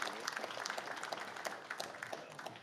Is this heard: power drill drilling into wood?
no